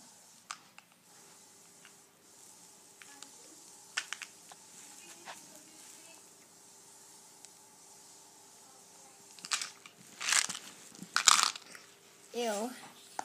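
Crunchy dark green candy, coffee-flavoured, bitten and chewed close to the mouth, with a few soft crunches early and a louder burst of crisp bites and chewing near the end.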